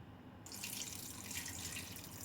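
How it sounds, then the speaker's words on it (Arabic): Tap water runs steadily into a cooking pot in a home kitchen, a close continuous splashing rush that starts abruptly and carries on without pause or voices. "هجيب بقى ميه"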